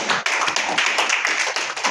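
Audience clapping at a closing seminar session, close and loud with a brisk burst of individual claps that fluctuate briefly.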